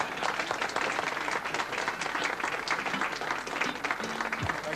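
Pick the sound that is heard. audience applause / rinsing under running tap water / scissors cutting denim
audience applause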